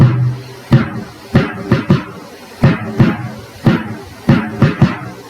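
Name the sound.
porro basic bass drum (bombo) rhythm pattern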